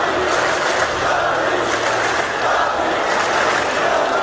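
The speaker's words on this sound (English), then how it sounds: "Poles cheering for Gambit now" Crowd at the PGL Krakow 2017 CS:GO Major semifinal, Polish fans cheering for Gambit in a large arena, a dense, continuous roar of many voices at steady loudness.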